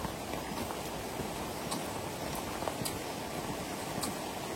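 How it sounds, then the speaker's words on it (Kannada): Rain falling steadily near a hanging bridge in a quiet area beside a coffee estate, a soft even hiss with a few faint taps and no voices. "ಮಳೆ ಸೌಂಡ್ ಎಷ್ಟು ಚೆನ್ನಾಗಿದೆ ಕೇಳಿಸ್ತಾ ಇದೆ ಇಲ್ಲಿ"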